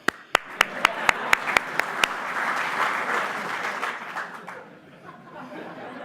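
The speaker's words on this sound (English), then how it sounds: "So one more time, a round of applause for my bio" At an awards ceremony, a few loud, distinct claps ring out near the microphone before a crowd's applause swells in, mixed with chuckles and chatter, then fades and thins toward the end.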